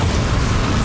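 A Bombarda spell blast in the video game Hogwarts Legacy: a loud, dense, rumbling burst that fills the short moment without a break.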